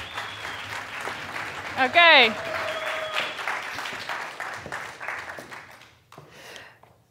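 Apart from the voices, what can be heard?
audience applause for the three finalists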